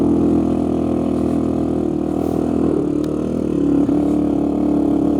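A Honda 350x motorcycle engine runs steadily, a continuous loud close mechanical drone with a slight dip and swell in the middle, as if held at a low throttle.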